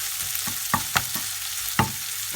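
Ingredients for Tibetan chicken thukpa fry in a pan with a steady close sizzle, punctuated by several sharp scraping knocks of a utensil stirring, with no voices.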